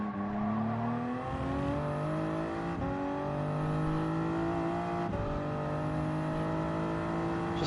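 Gran Turismo 7 race car at Daytona Road Course, engine revving steadily through the gears with rising pitch sweeps and quick shift breaks, loud and continuous, no talk over it.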